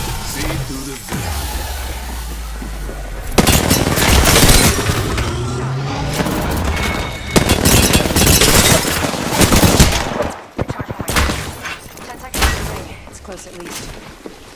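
Heavy gunfire in an Apex Legends battle royale match, loud bursts of automatic shots and booming impacts close by, coming in long dense stretches broken by short pauses, with game chatter around them.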